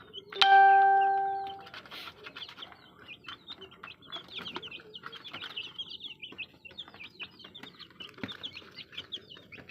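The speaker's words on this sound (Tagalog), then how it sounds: "ito yung mga bagong papisan natin ng mga sisiw" A backyard flock of mixed-size newly hatched chicks and chickens, with a bright ringing tone at the start followed by dense, busy peeping and soft clucks at close range.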